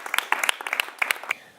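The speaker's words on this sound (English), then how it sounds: "A round of applause, please." A few people clap briefly in a small live music setting with a lap steel guitar demo, sparse uneven claps that stop after about a second and a half.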